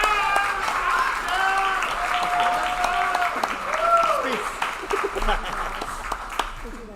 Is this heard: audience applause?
yes